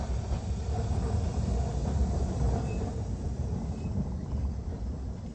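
Dolgoch, a small steam engine on the Talyllyn Railway in West Wales, rumbles along the line with a steady low clatter and rolling noise, fairly close and continuous, with no voices.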